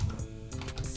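Quick clicking keystrokes on a computer keyboard as a website URL is entered, a short close burst of taps with no talking.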